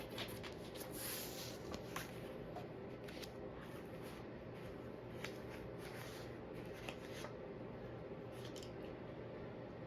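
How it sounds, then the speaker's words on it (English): Tarot cards are laid out and shuffled on a table, giving a soft, steady run of papery riffles and light slaps for about ten seconds, quiet and close, with no talking. "let me just get all the cards set up good before I start talking"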